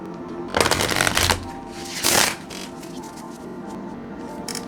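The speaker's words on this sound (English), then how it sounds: "I'm going to shuffle one more time on that one." Tarot cards being shuffled by hand: two bursts of crisp riffling, a longer one and then a shorter one, close and fairly loud, followed by quieter rustling.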